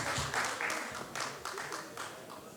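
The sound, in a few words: applause from audience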